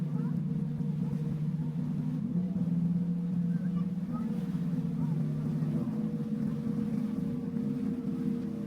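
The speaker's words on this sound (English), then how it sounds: "This is the Seal Island boat ride in Hout Bay." A boat's engine drones in a low, steady rumble throughout on the Seal Island boat ride in Hout Bay, Cape Town, with a constant hum and faint water noise.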